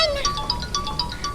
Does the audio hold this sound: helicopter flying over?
no